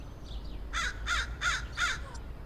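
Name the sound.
crows cawing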